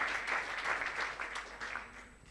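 A church congregation claps together during a sermon, a lively burst of many hands that stays strong and then thins and fades toward the end.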